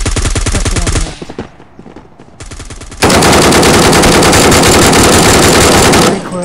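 Automatic gunfire in the Forward Assault video game, with a loud rapid burst, a short pause and a few scattered shots, then a long, very loud continuous volley lasting several seconds.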